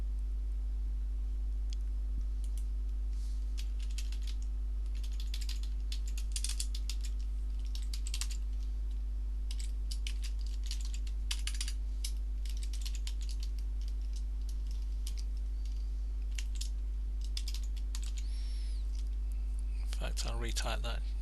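Keys clacking on a computer keyboard while a password is retyped during setup, a quiet run of irregular clicks and short bursts that is steady through most of the stretch, with no talk.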